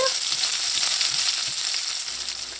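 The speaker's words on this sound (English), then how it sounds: "You just want to cook these onions and these peppers in here until they're brown." Onions and peppers fry in a pot with a loud, dense, steady sizzle, close up and unbroken, with soft stirring scrapes underneath.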